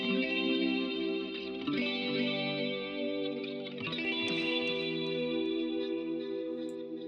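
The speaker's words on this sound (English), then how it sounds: "Now let's listen to the delay." Baby Audio Comeback delay plugin processing a sustained tonal instrument part, thick chorused and slightly distorted echoes smearing the notes into a continuous wash, steady level with no talking.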